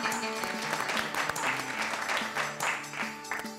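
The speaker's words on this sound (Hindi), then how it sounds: "तालियां बजाओ" A crowd claps in a dense, steady patter of applause that continues through the whole stretch at moderate volume, with faint voices mixed in.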